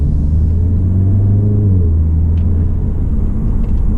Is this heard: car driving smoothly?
yes